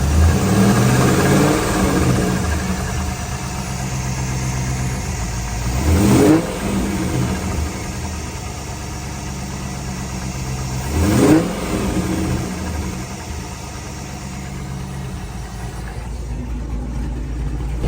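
Corvette C5 Z06 with a blown, knocking engine, still cold, revved twice in sharp bursts over a steady rough idle; the engine note swells and falls back each time, with no knock clearly standing out.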